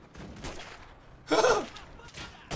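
Pistol shots in a war video game, a few sharp cracks spaced apart with one louder burst in the middle, close and punchy.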